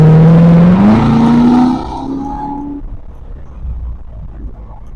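A Corvette Z06 with an automatic transmission accelerates hard on a winding road. Its loud engine roars up through the revs for about two seconds, then the sound drops away quickly to low road noise.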